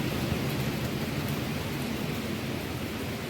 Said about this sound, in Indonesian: Nah, hujan deras.